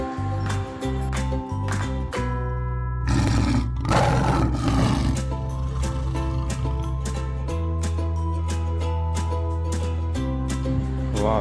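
A lion lets out a deep, roughly one-second roar over steady background music, surrounded by music alone.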